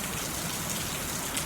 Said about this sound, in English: Have you ever just watched the rain?